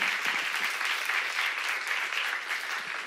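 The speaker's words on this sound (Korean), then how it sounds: "박수 하셨어요" A church seminar congregation claps steadily for about three seconds, a dense, even wash of applause with no voices standing out.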